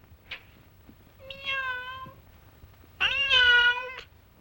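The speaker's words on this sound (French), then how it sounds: "Ah, c'est un chat." A cat meows twice, close and clear in a quiet room: first a short call, then a longer, louder, rising meow, with a faint click before them.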